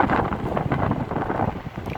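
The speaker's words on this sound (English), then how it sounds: "I do apologise for the wind." Strong gusts buffet the microphone on a train station platform, a loud, continuous roaring rumble that masks everything else.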